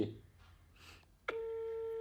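A mobile phone being dialled gives a few faint keypad sounds, then a clear, steady electronic tone sounds close and alone for the last stretch.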